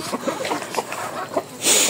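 Chickens clucking close by on a home yard as corn is scattered for them, a busy run of short overlapping clucks and chirps, ending with a brighter hissy rustle.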